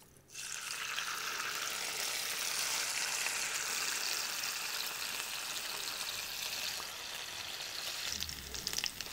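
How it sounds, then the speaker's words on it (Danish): Salmon fries in olive oil on an induction hob. A loud, steady sizzle starts abruptly and keeps going close by, with faint crackles and no voices. "Den her laks skal steges mest på den ene side, så man kan få en stegeskorp."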